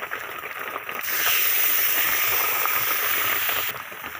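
A splash of water hits sizzling turmeric and chili powder in a pan for a thin egg curry. It sets off a loud, sudden burst of hissing steam that holds for about three seconds before cutting back to a softer sizzle.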